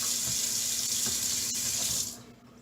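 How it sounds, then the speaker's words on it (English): A kitchen sink faucet gushes steadily with water splashing into the basin for about two seconds, then cuts off abruptly, leaving quiet room tone. "I gave my wife one of those fancy sinks to just bop it on, bop it off, bop it on, bop it off"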